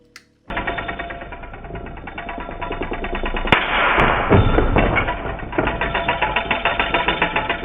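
Spinning Beyblade tops whir loudly, broken by a sharp bang and a burst of crackling impact as they clash and spark, then a rapid rattling pulse continues.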